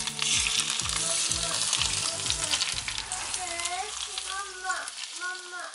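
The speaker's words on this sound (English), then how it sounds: "such a nice sizzle" Hot olive oil poured over steamed Chinese-style fish, a loud crackling sizzle that starts abruptly and gradually calms, with a voice speaking over the tail end.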